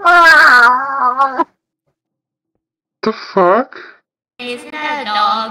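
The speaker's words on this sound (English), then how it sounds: "Are you meowing?" A cat meows in drawn-out, wavering cries at close range, with pauses between them and a brief spoken exclamation.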